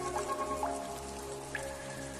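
Rain falling on leaves in a hummingbird habitat, a faint soft patter of scattered drops over a quiet steady background, with a few brief bright drip sounds.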